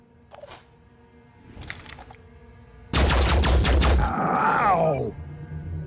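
Laser blasts strike a soldier in the Phoenix Point video game: a loud, dense burst of rapid shots lasting about two seconds, with fainter game sounds before it and a trailing groan-like tone after.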